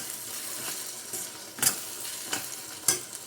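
Cooked-down onions being stirred in a pan on low flame for a drumstick and cashew curry, giving soft steady sizzling with a few sharp scraping strokes of the spoon, fairly close and alone with no talk.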